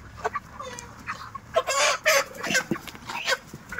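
Broiler chickens on a poultry farm cluck and squawk in bursts, several birds calling close by with short gaps between them, the calls growing louder midway.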